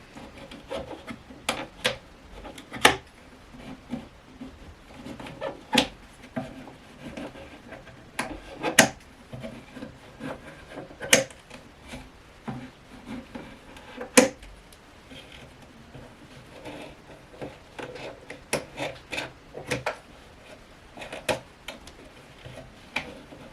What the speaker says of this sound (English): I'm going to take off the rubber clamping and see what we have